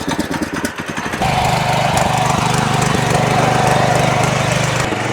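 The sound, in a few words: air-cooled engine of power weeder mini tractor running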